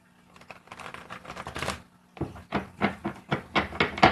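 A run of rapid papery riffles as a deck of tarot cards is shuffled, several quick bursts close by, with a brief pause partway through.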